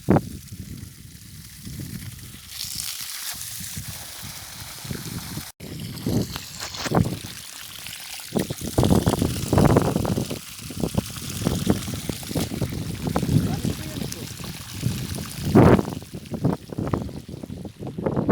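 Water gushes and splashes steadily from a borehole pump hose, a rough, uneven rushing sound with bursts of spatter.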